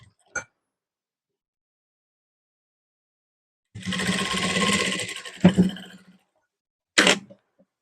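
A sewing machine stitching the shoulder of an off-shoulder designer blouse: one click, a continuous whirring run of about a second and a half, a heavier clunk, then a shorter final burst, with quiet between.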